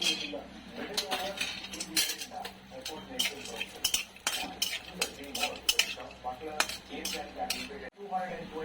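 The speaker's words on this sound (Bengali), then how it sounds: "ঘিটা দিয়ে কাজুটা আমি ভাজবো এবার আমি একটু কাজুটা ভেজে নেব" Cashews fry in ghee in a pan while a metal spoon stirs them. Clinks and scrapes of the utensil repeat over a faint sizzle, with a voice talking at times.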